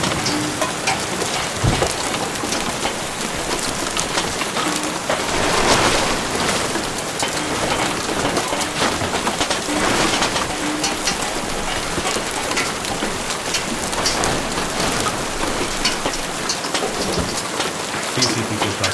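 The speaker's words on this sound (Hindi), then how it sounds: "फिर से बारिश होने लगी है।" Heavy rain falls continuously and loudly, a dense steady hiss of drops on surfaces lasting the whole stretch with no voices.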